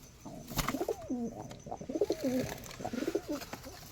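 Giribaz pigeons give several close, soft rolling coos in quick succession, with a sharp knock near the start and no talking.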